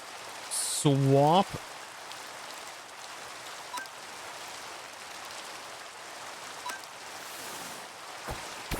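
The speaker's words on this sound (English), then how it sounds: "rain continues to fall" Steady rain falling during a Pokémon video game battle, a soft continuous hiss running throughout, with a brief electronic game chime near the start and a voice speaking once over it.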